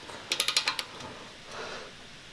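Wrench ratcheting on a bolt of a motorcycle exhaust during a swap on a Z bike: a quick burst of about six sharp metallic clicks, fairly close, followed by a soft scrape, with no talking.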